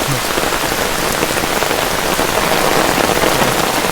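Heavy rain pouring steadily on a hard surface, a dense continuous hiss with scattered close drops, where a young novice monk plays in the water; no voices or splashing stand out.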